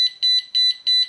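Arduino Uno alarm clock buzzer sounding a loud, shrill electronic beep in a fast repeating pattern, with short pulsed bursts and brief gaps, alone and close.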